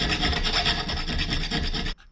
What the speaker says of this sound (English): Now the file I'm using here is smooth these two sides, but rough on this side